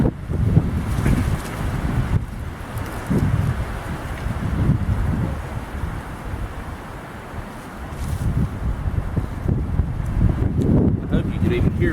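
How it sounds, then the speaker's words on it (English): Strong gusts of wind buffet the microphone in rough, uneven bursts, with a voice partly audible beneath the roaring. "it is extremely windy out here"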